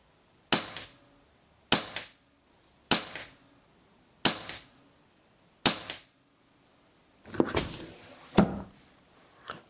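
A Weihrauch HW77 air rifle fires repeatedly at a 25-metre target, with five sharp, close cracks at regular intervals, then a cluster of clicks and thumps as it is reloaded and fired again.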